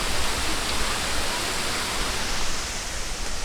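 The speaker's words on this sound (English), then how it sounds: "This is a bigger waterfall." A large waterfall in Chiang Mai roars as a dense, steady, broadband rush of falling water, loud and close throughout with no voices.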